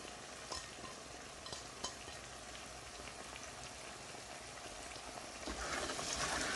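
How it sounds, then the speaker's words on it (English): A spoon stirs coriander leaves into a potato and pea curry in a pot, a faint, steady wet scraping and bubbling that grows somewhat louder toward the end. "And stir that in."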